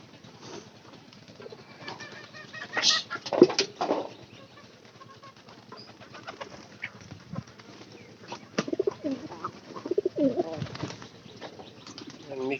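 Pigeons being fed grain near their loft coo and flutter, with soft bursts of wing flapping and low throaty calls scattered over a quiet background, rising in a few busier clusters.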